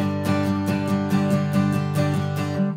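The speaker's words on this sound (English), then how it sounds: "Most beginners tend to hold a pick really tight and they use their whole arm to strum." Beginner guitar strummed stiffly with a tightly gripped pick and whole-arm motion: about nine loud, even strums in a steady rhythm over ringing chords, heard up close with no talking.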